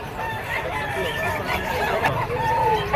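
A white-legged stag gamecock of Boston Sweater bloodline, held by a standing seller at a gamefowl market, clucks and breaks into a crow over a busy background hum, close and fairly loud throughout.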